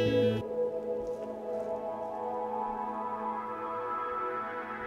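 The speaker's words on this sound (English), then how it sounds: "I actually created a different effect in the same Axe FX preset" Guitar pad from an Axe FX preset: a struck chord cuts off into a soft, reverberant ambient wash that swells and hangs faintly, with echoing trails and no voices.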